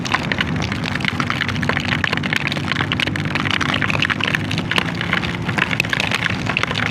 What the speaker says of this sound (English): Yeah, this is hail, what is not good.